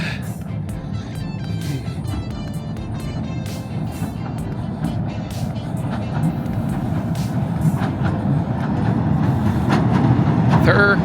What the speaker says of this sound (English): we have the returning train